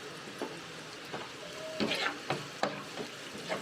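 Spices with turmeric and coriander powder being sautéed in a pan for a prawn dish, a soft low sizzle with a few scraping stirs of a spoon at irregular intervals.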